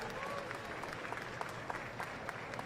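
Applause from an audience at a small business expo Shark Tank–style panel in Houston, a steady crowd patter with scattered sharper claps, moderately distant and fairly faint, running the whole time.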